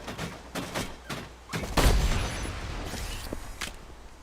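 Video game combat: a burst of rapid gunfire, then a heavy booming explosion as turrets are destroyed, followed by scattered shots and thuds, loud and close.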